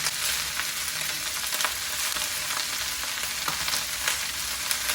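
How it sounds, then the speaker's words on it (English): Cabbage sizzling in a big sauté pan after being salted, a dense, continuous hiss of frying, close and even, with faint intermittent crackles and no voices. "It'll start to sizzle, no big problem."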